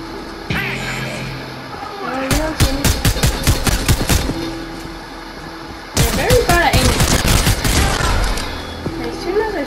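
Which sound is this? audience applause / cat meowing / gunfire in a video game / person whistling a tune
gunfire in a video game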